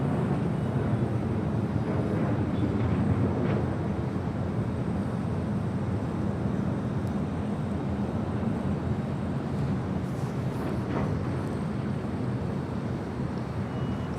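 A SkyWest Airlines Embraer E175 jet departs runway 25 right at Los Angeles International Airport, a steady broadband engine roar held at even loudness throughout with wind buffeting, no voices.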